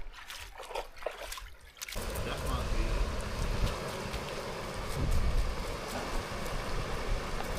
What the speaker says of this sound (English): this is Iron Fork Creek, right?